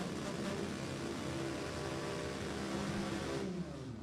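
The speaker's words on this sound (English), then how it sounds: "a Dragster that's powered by a Chevy" A Chevy-powered four-cylinder dragster revs at Lebanon Valley Dragway, a loud, continuous engine roar that holds steady throughout before easing slightly near the end.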